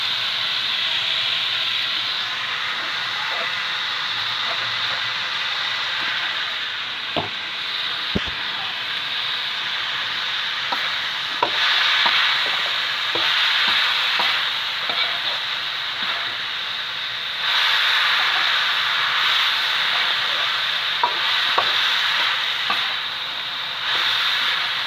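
Mushrooms and carrots stir-fry in a pan with green chilli, a steady hissing sizzle punctuated by a few sharp clicks of stirring.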